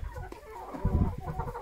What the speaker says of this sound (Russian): Курочки мои тут лазят, гуляют. Смотрю, петухи подросли.